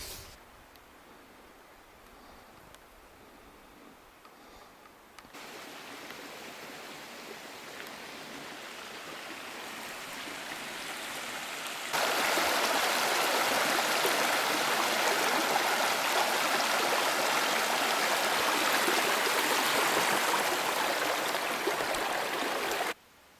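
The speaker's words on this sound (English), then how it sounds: "What a beautiful creek that is." A creek in the Kakwa Wildlands rushes steadily, a continuous broadband wash that grows louder in two stages as if moving closer to the water, with no speech.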